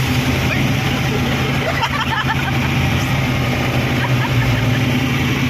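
A motorboat engine runs on the water with a steady, loud droning hum throughout, while voices chatter indistinctly over it.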